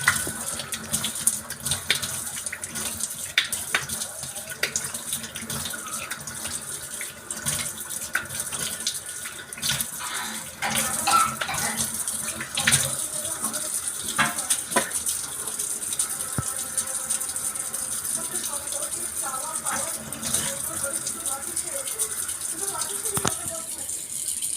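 Water runs and splashes steadily as a face is rubbed and rinsed with wet hands at a tap, a continuous close wash with small bursts of splashing and a faint voice now and then.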